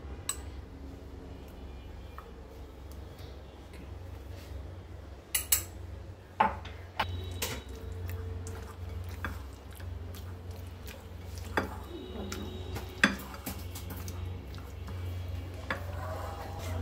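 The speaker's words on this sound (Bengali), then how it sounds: "মশলাটা দিয়ে ভালো করে মাখিয়ে নেওয়া হচ্ছে।" Cut chicken pieces being mixed by hand with a blended spice masala in a bowl for fried chicken marinade, heard as soft squishing with occasional clinks of the bowl and utensils, close and quiet against a low steady room hum.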